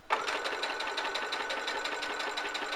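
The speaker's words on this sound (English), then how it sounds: "Now we're at the sewing machine, we're now just going to sew across the pieces that we've pinned." A sewing machine runs steadily and close by, stitching across pinned fabric pieces for a glasses case, its needle making a rapid, even mechanical chatter from start to finish.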